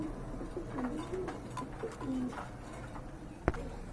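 A pair of pigeons kept for sale coo softly in a few low, rolling calls, with a single sharp click near the end and no voices over them.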